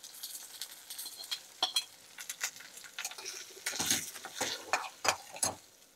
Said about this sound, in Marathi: त्याच्यामध्ये आपण हा भाजलेला रवा घालून घेऊयात